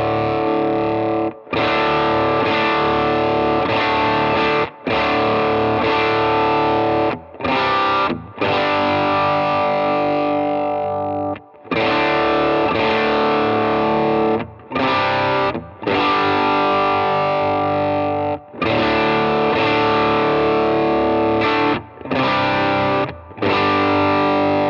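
Electric guitar played through a Jackson Audio Golden Boy overdrive pedal, a loud, distorted tone with sustained chords and riffs and brief gaps between phrases, with no talking.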